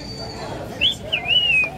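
A man whistles an imitation of a bem-te-vi bird call on a busy town-centre street, a short rising and falling whistled phrase repeated twice over low street noise.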